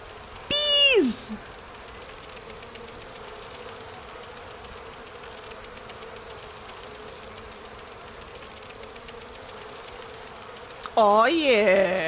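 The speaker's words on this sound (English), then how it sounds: "We got some bees." Bees buzzing in the fantasy role-playing game Dragon Age: Inquisition, a steady droning hum running throughout between two short bursts of a voice at the start and end.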